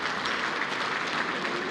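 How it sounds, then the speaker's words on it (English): An audience applauds the chief guest at a national exporter awards ceremony in 2015: a steady, full crowd clapping throughout, loud and continuous without voices. "please give our chief guest a big round of applause"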